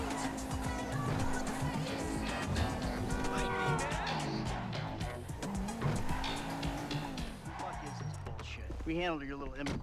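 Skidding tires and a revving engine from a car in GTA 5, the driving sounds loud and continuous with streaks of squealing, mixed with game dialogue and other voices throughout.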